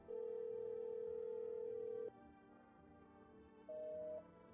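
Phone tones in the video game No I'm Not a Human: a steady tone holds for about two seconds and cuts off, followed after a quiet gap by a shorter, higher tone, all faint and without voices.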